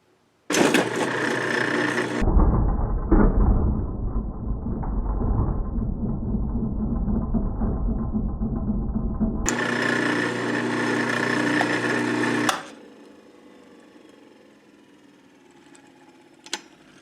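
An electric motor spins the power steering pump on a homemade car lift, giving a loud whirring drone with mechanical whine that starts abruptly, holds steady for about twelve seconds, then shuts off and fades.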